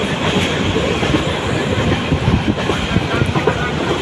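Loud, continuous rumble and rattle of a moving train, with rhythmic clattering of wheels over rails and rushing wind, heard from inside close up.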